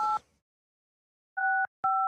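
A short burst of telephone tone cuts off into silence, then two more steady tone bursts follow, clean and close.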